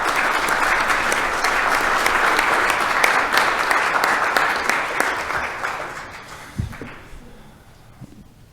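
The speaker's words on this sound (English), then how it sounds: "I want to give them a round of applause and tell them thank you for all their work." Applause for committee staff at a state Senate appropriations hearing, a sustained loud roomful of clapping that fades away near the end.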